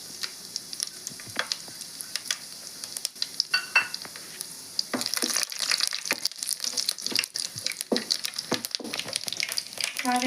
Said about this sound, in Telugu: ఆయిల్ అది హీట్ అయిందండి. నేను పోపు దినుసులు వేసాను.